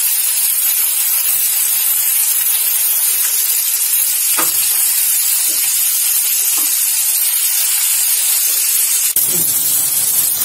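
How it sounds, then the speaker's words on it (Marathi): Bombay duck (bombil) fish fry in oil with a loud, constant close-up sizzle and spatter, scattered with small pops and crackles throughout. "चांगलं व्यवस्थित फ्राय करून घ्यायचं।"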